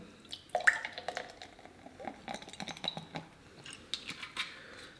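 Baking soda, dish soap and lemon juice fizzing into foam, a soft crackle of scattered tiny pops and wet squishy clicks that comes and goes over five seconds, fairly close and quiet.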